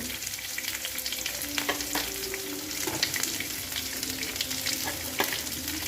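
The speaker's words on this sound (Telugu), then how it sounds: "ఎర్రగడ్డలండి, ఇదండి ఎర్రగడ్డలు బాగా వేగాలండి" Onions and green chillies frying over high flame for wheat rava upma, a loud steady sizzle with occasional stirring scrapes and light clinks, close and continuous.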